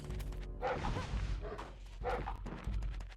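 A dog in the video game Kya: Dark Lineage barks repeatedly in short bow-wow bursts over steady game background noise, loud and close, with yips between the barks.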